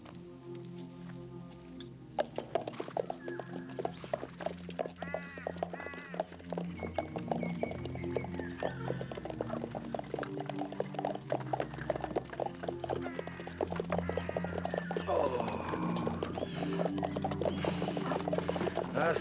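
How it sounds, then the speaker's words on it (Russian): Saddled horses are led out in a period setting, their hooves clip-clopping irregularly with clattering tack and shuffling, moderately loud and gradually building, with no talk over it. "Выводи лошадей."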